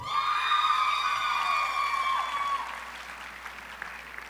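Steady applause from an audience at an education summit greeting finalists, a dense wash of clapping with some whoops, fading slightly toward the end.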